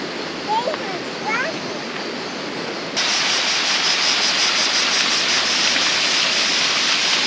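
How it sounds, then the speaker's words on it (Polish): A hot waterfall at a hot spring in Megrelia, Georgia, rushing as a loud continuous roar that swells sharply after a few seconds, with someone speaking briefly over the start. "zobaczmy ten gorący wodospad"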